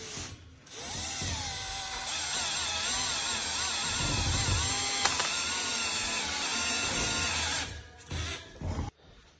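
A power drill bores holes to mount a metal railing, whining loudly and steadily for about seven seconds before winding down with a few short bursts.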